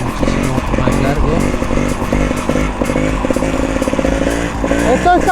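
Trial motorcycle held in a long wheelie in fifth gear, its engine droning loud and steady with a dense, rough harmonic buzz throughout, minor surges in revs, no pauses.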